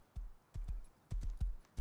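A horse gallops in the video game Rust, a quick run of muffled, thudding hoofbeats coming in irregular pairs and clusters, fairly faint.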